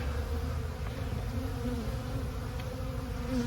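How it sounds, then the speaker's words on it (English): Honey bees buzz steadily inside a hive as young bees chew their way out of capped brood cells, a continuous close-up drone with a low hum throughout and no voices. "So these are bees that are emerging."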